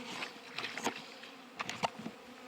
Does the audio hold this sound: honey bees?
yes